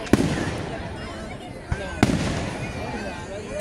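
A live fireworks show in Boston: sharp loud bursts crack out one after another, a few seconds apart, over a dense crowd murmur and continuous rumbling background.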